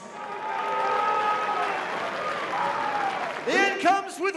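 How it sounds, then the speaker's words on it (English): A boxing crowd applauds and cheers after a 10th-round knockout, a loud, sustained wash of clapping mixed with voices, ending in a few sharp shouts near the close. "could we please have a round of applause for these two warriors?"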